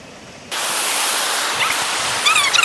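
Water pours at the top of Abbi Falls near Madikeri in Karnataka, a dense steady roar that rises abruptly and fills the scene at close range, with faint voices or yips near the end.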